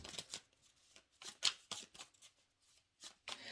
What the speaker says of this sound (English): let's shuffle the Key Oracle deck